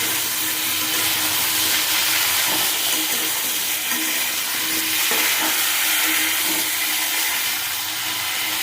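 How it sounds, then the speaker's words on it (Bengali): Potatoes fry in a pan with salt and a few green chillies while being stirred, a dense, steady sizzle with soft scraping and clattering from the stirring throughout. "এবার নাড়তে থাকবো।"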